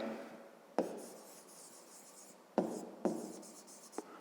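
Handwriting while working a math exercise, with soft scratching strokes and four sharp taps of the pen against the surface, close and quiet with no talk.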